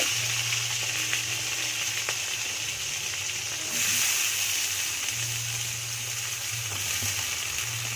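Fenugreek seeds, radhuni and bay leaf sizzle steadily in hot oil as a tempering for Bengali sukto with ridge gourd and eggplant, a continuous close crackling hiss with a low hum beneath, swelling briefly midway, no voices.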